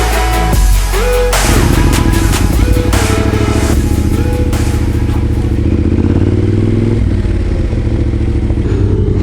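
A Yamaha Tenere 700 motorcycle rides past at close range with a loud, continuous engine drone, shifting through a few throttle rises and gear changes amid some wind and rattling clatter.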